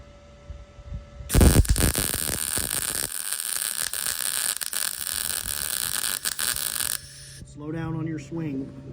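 Arc welding with a stick welder produces a loud, crackling buzz that starts abruptly and runs steadily for several seconds, then cuts off; a person speaks briefly afterward.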